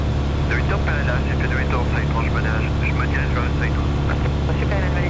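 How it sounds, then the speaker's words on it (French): Steady droning light aircraft engine in a cabin, with a slight shift in its tone as the fuel mixture is adjusted, while people talk over it throughout. "Là déjà on entend une petite variation dans le moteur."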